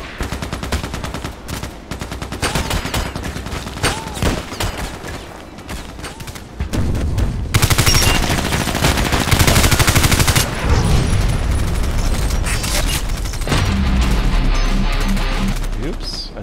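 Rapid automatic rifle fire from a Colt IAR in the online shooter Contract Wars, bursts of gunshots over a steady bed of rock music, growing louder and denser in the second half, with a voice talking at times.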